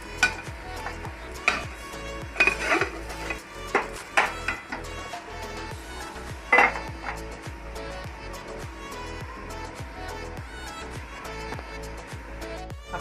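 Egg and drumstick leaf fry being flipped in a frying pan: scattered clacks of a spatula against the pan over a soft, steady sizzle, with a few sharper scraping hits.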